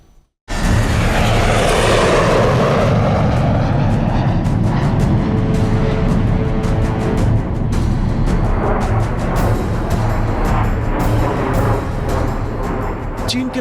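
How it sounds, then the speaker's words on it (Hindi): Chinese fighter jets flying over the South China Sea, a sudden loud jet roar that bursts in and holds as a powerful sustained rush with rumbling and crackle throughout. "चीन के फाइटर जेट्स साउथ चाइना सी में लगातार फर्राटे भर रहे हैं।"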